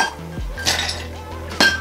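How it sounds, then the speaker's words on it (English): Ice cubes clatter and clink into a cocktail glass, a few sharp close knocks with one louder rattle near the end, no talking. "we're gonna get some ice in this glass."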